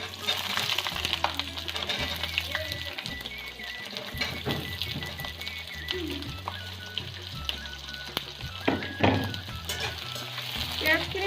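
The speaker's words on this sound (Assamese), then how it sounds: "পিঁয়াজখিনি ব্ৰাউন কালাৰ হোৱালৈকে আমি ভাজিম।" Sliced onions frying in hot oil with bay leaf and dried chilli for a home-style Assamese mutton curry, a continuous close sizzle broken by scraping stirring strokes, no talking.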